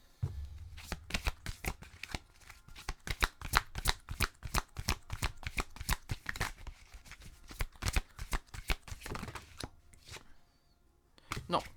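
Oracle cards being shuffled by hand, a close, rapid run of crisp riffling snaps in quick irregular bursts lasting most of the time before trailing into quiet.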